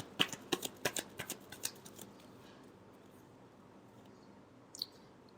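Tarot cards are shuffled by hand in a quick burst of crisp, snapping riffles for about two seconds, then the room goes quiet except for one brief card flick near the end.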